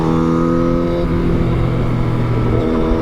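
Yamaha MT-09 motorcycle cruising on the freeway, a loud, steady engine drone with a slight pitch shift partway through, mixed with constant wind rush, close and continuous.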